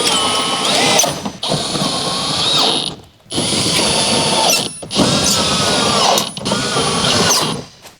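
A cordless impact driver with an 8mm short socket rattles in three loud, close bursts with short pauses between, tightening fender flare retaining bolts on a 2013-2018 Dodge Ram 1500.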